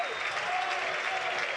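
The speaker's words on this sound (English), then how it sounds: "Chris Wood going off and getting a round of applause from the Burnley fans as well." Burnley fans applaud in a football stadium on Premier League final day, a dense, steady round of clapping spread across a large crowd, heard at moderate distance and fairly quiet.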